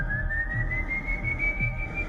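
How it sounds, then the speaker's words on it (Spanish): A peculiar, eerie whistle sounds as one sustained high tone that slowly climbs in pitch for about two seconds, over a low rumbling background. "Sí, era el silbido que había escuchado antes"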